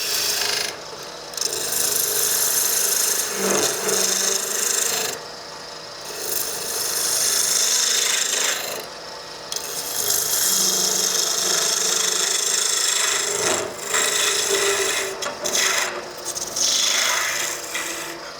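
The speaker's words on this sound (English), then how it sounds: "That's about all the rough work I can do with my roughing gouge." Roughing gouge cutting a spinning wood blank on a lathe, a loud continuous hissing rasp broken by several short pauses as the tool is lifted and repositioned.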